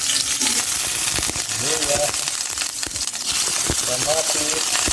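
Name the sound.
ginger sautéing in cooking oil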